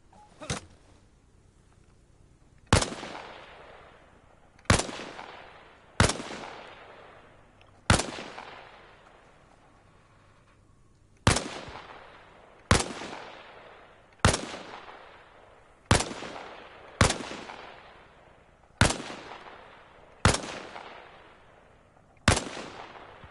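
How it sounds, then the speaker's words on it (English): Rifle gunfire in the Arma video game on PS5: about eleven loud, sharp single shots at irregular intervals, each with a reverberant decaying tail, and no talking. "Position yourself behind the wall and lean out while firing."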